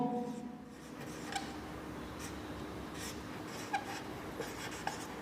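A pen scratches steadily on paper while someone writes out the steps of a geometry construction. The writing is quiet and close, broken by a few small taps and clicks.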